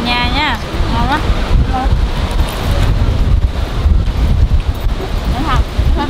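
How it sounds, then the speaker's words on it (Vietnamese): Strong wind at Mui Ne, Binh Thuan, batters the microphone in loud, continuous gusty rumbling while people talk over it. "gió ở đây là nó rất là mạnh các bạn ơi"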